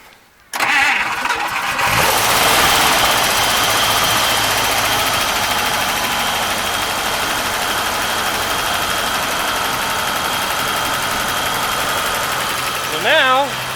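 A 1954 Buick engine cranks briefly and fires, then settles into a loud, steady idle held close by for over ten seconds, with a short rise in revs near the end.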